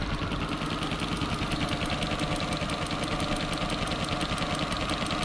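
A restored boat's four-stroke engine runs at a steady idle, its fast, even knocking pulse close and constant throughout with no talk over it.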